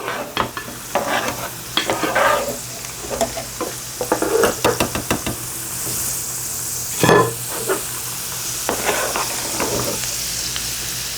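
Raisins frying in hot oil in a pan for Bukhari rice garnish, continuous sizzle under repeated quick scraping stirs and clacks of the spoon, fairly close and busy throughout.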